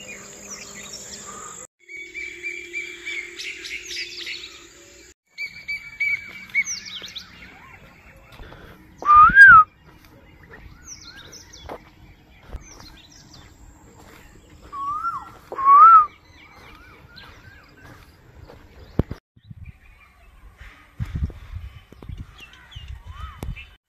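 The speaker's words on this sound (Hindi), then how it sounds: "परिंदों की आवाज सुने" Birds call outdoors in scattered chirps and tweets, with two louder, clearer calls standing out over a soft background of clatter and faint sounds.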